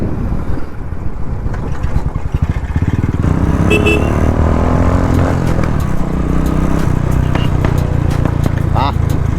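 A Royal Enfield Classic 500 motorcycle rides along with a steady, continuous engine drone and wind buffeting the microphone, as the rider talks over it.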